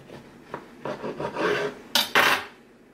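A knife saws through a freshly baked keto bread loaf, close and clear, with several rasping back-and-forth strokes that build to two louder, crusty cuts at the end.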